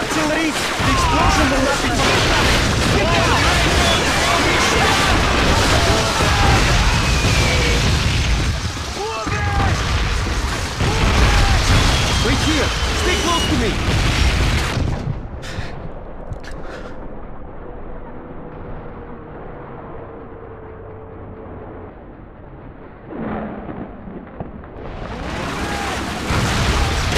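Artillery shell explosions in the World War II shooter Call of Duty on PS2, heavy booming blasts and rumble filling the first half under shouted talk, then quieter battlefield ambience with a few distant bursts.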